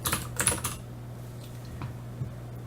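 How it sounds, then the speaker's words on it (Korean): Computer keyboard keys pressed for a Ctrl X shortcut in Emacs, a quick cluster of close clicks followed by a few lighter taps, no speech. "컨트롤 X를 누르게 됩니다"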